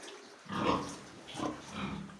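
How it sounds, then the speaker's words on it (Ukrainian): A young boar on a pig farm gives two or three low, breathy grunts in short bursts, moderately close over a quiet barn background. "Непогані свині, я вам скажу, дивіться, який кабанчик."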